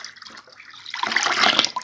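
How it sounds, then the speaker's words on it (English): Water is poured into soft clay mud, a brief splashing gush that swells from quiet to a louder, close, bubbling pour near the end. "before that I have more water to add"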